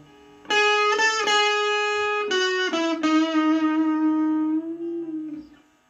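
Electric guitar through a Stranger C15 amplifier with distortion turned fully up, playing loud sustained, buzzy notes in a few strummed or picked attacks that ring out and fade, with no talking.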